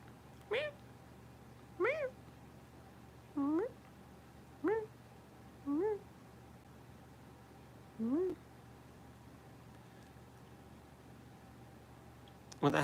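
A kitten meows repeatedly at close range, six or seven short rising cries spaced a second or two apart over a quiet room hum.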